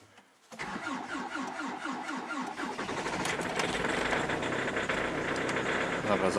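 A Hyundai Santa Fe 2.0 CRDi diesel cranks with a rhythmic, slightly weak starter whir for about two seconds, then fires and settles into a steady, clattering idle that holds close and even, with voices nearby.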